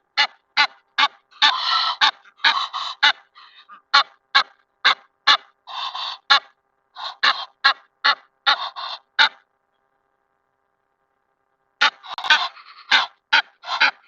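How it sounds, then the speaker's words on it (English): Ducks and geese at a golf course at sunset, honking in a rapid run of sharp, loud, close calls. The calls sometimes overlap into noisy clusters, then go quiet for a couple of seconds before a final burst. "Look at the ducks. They're all following us."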